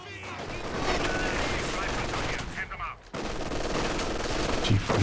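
Machine gun fire in Company of Heroes 2 during a 2v2 match, a Maxim MG battling, dense sustained bursts with gunfire and battle noise, a short lull near the third second, then firing resumes.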